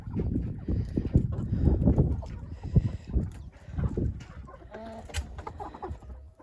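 Several chickens cluck and murmur in irregular bursts inside a quiet, warm coop during frost outside, some calls closer, others softer in the background.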